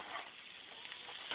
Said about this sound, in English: Now the reason it's sizzling is because I left that oven on.